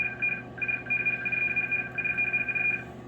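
A Harris RF-3466A HF modem sending RTTY low tones: two steady high pitched tones alternating rapidly in a continuous data warble, close and clean over a faint hum, with one short gap.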